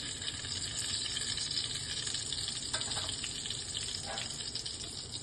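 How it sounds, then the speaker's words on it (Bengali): Whole spices, bay leaf, dried red chilli and crushed cardamom fry in hot oil for a banana-flower mocha dish, giving a steady, even hiss that continues without a break at moderate volume. "শুকনো লঙ্কা, তেজপাতা, গোটা গরম মশলা, ছোটো এলাচটা থেতো করা আছে"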